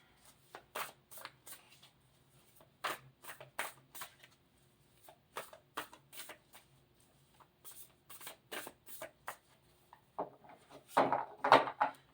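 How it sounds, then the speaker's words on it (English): Repeated riffling bursts of a thick oracle card deck being shuffled, quick rustling flurries with brief pauses between, close and fairly loud. "These cards shuffle very well, but the deck is so thick that it's still hard to shuffle."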